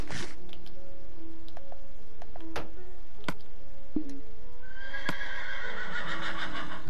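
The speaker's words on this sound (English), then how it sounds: "Feed my horsey. Let's make him feel better." Minecraft horse whinnying in short bursts, with a few sharp clicking taps and a brighter neigh near the end, alone without voices.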